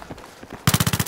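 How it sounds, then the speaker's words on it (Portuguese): A rapid burst of about six loud, evenly spaced gunshots fires in quick succession after a stretch of quieter background noise, sounding like video game gunfire. "Tá vendo uns tiros indo aí, ó?"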